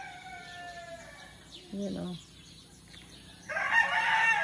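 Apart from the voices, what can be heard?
roosters crowing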